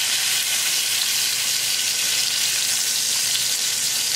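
Freshly flipped lamb chops sizzle in a hot pan, a steady, close, even hiss that carries on unbroken with no talking.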